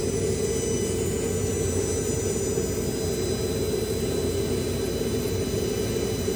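A Nova Plus 60 W laser cutter with a 4-inch head slices through 3/4-inch pine at 98% power, heard as a loud, unbroken roar of fan and air-assist noise holding steady throughout.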